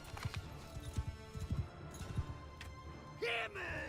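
Cavalry horses' hooves in the Mount and Blade video game clatter in a fast, uneven clip-clop run at moderate volume, ending with a brief higher-pitched whinny-like cry.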